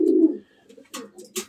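Racing pigeons in a loft, with a close, soft, low coo followed by a few brief throaty calls and rustling.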